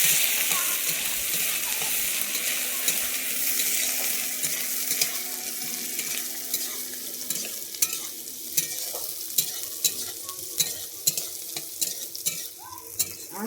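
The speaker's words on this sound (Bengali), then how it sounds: "পেঁয়াজটা ভাজা হয়ে গেছে" Onion sizzles in hot oil in a pan while being stirred, a soft steady frying hiss with a run of sharp spoon scrapes and taps against the pan toward the end.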